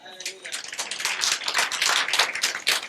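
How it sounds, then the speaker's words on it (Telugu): A church congregation claps hard together, a dense, continuous patter of many hands close by that swells and holds steady for a few seconds. "అసలు యేసయ్య గట్టి చప్పట్లు కొడతాం ఒకసారి."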